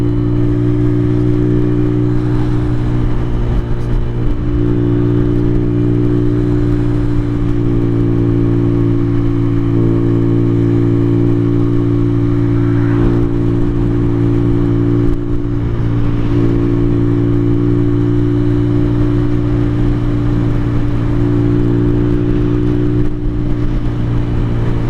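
A 2023 Venom SS3 KP mini 150 motorcycle rides steadily, its mid-pitched engine droning loud and close with strong harmonic tones, while the rider shifts gears and the pitch rises and dips slightly.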